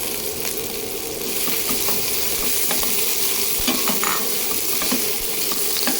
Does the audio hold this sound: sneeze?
no